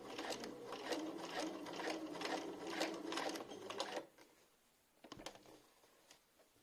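A sewing machine runs a straight stitch along a T-shirt hem with a twin needle, a steady fast whir for about four seconds, then stops, leaving a few soft clicks and handling noises.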